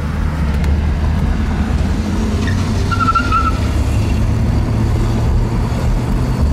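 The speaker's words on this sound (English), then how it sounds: "I'm just really surprised how smooth this engine is." A 1965 AMC Rambler Marlin engine hums steadily with low rumbling road noise, a constant droning as the car drives along, with a faint brief squeal in the middle.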